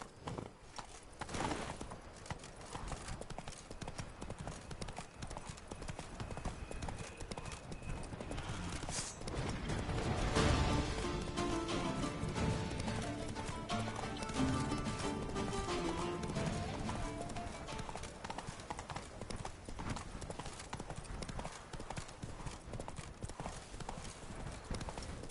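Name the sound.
horse Roach galloping hoofbeats in video game The Witcher 3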